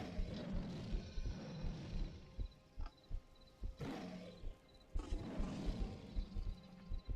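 Alerted roars from a dinosaur in a Saurian game mod come in deep, rumbling, repeated pulses. Two louder roaring swells rise above a steady growling rhythm with no voice over them.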